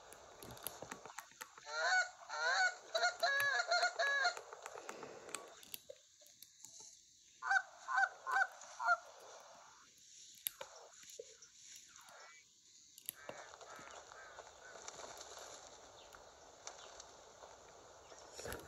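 Geese honk in clustered bursts outdoors, fairly faint and distant, with quiet gaps and rustling between calls.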